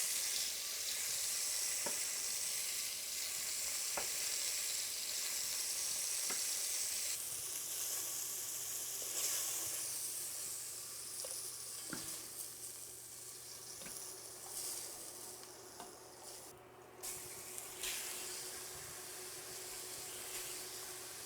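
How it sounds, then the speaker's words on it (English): Brisket pieces for Finnish lihapata fry in a pan with a loud, steady sizzle and hiss, crackling close up and softening slightly partway through, with occasional stirring clinks. "throw in a couple pieces of the brisket. We'll fry these up in maybe 2 batches."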